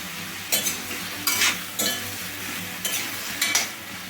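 Potato pieces fry in a pan with salt added, a soft steady sizzle broken by several brief scraping stirs of a spoon, close and moderately loud, with no talking.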